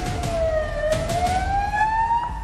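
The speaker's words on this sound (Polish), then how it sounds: "Usłyszałam dźwięk nadjeżdżającego radiowozu." An approaching police car siren wails, rising and falling in pitch, loud and steady, with traffic rumble underneath.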